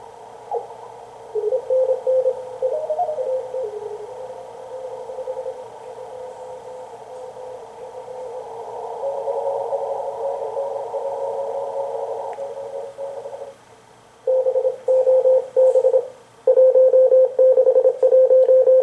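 Steady hiss of a Ten-Tec Orion II Model 566 amateur radio receiver with bursts of clear tones, some long and some choppy, switching in and out as the dial tunes across the band.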